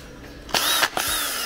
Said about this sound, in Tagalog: Isang battery na may barena.